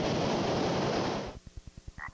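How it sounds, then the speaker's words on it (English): Frogs croak in a quick, evenly spaced series of short pulses, which follow a loud wash of roaring surf-like noise that cuts off abruptly. "Welcome to the wonderful world of frogs"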